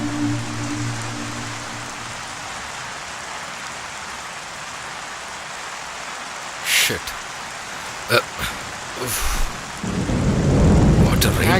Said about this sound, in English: In the heavy rain also the students will come to the school, right?